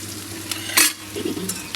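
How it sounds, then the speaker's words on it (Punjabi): Tadka sizzles in a pan in a Punjabi village kitchen, a steady close hiss broken by a sharp metallic scrape and a few lighter stirring clinks, with no talking. "ਤੜਕਾ ਪੁੱਜ ਰਿਹਾ ਇਧਰ ਆਪਣਾ"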